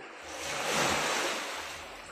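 Water at the Batu Air Mata rock site in Kalauli, a broad steady wash like surf or rushing water, swelling slightly in the middle and fading, with no voices.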